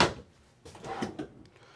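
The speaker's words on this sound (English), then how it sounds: "Dresser drawer." A dresser drawer in a 2024 Arctic Wolf 3770SUITE RV bedroom slides open or shut, a short wooden rumble and knock close by, with a faint scrape at the start.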